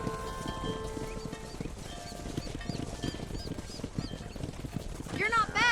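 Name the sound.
horses herded in video game Red Dead Redemption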